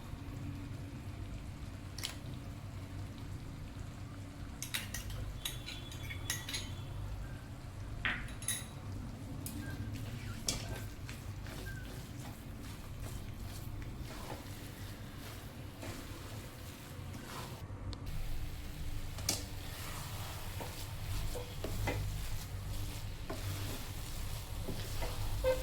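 Coconut milk burfi mixture being stirred in a pan, faint scraping and soft clinks of a spoon against the pan over a low steady background, quiet and intermittent.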